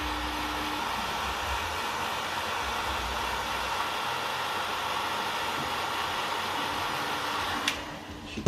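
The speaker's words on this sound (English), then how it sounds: "all you do is just get your heat gun" A heat gun blows a steady, even rush of hot air onto a plastic robot toy's joint, continuous and close for several seconds before a small click near the end.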